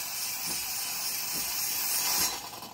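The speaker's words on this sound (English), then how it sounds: "from there on, it'll just be steam. And you can froth, and you can just hear it" A CASABREWS 3700GENSE espresso machine steam wand running empty, giving a steady, loud hiss up close that holds evenly before tapering off at the end.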